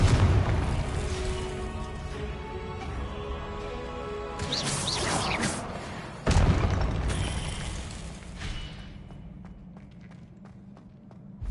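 A Confringo fire spell blasting in a Hogwarts wizarding video game. A rumbling explosive whoosh builds, then a sharp loud burst hits midway, followed by a fading crackle and a quieter tail.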